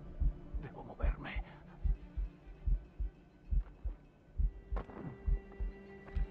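A slow, heavy heartbeat from a poisoned character in the video game Assassin's Creed Rogue, with steady low thumps about once a second under a faint background hum.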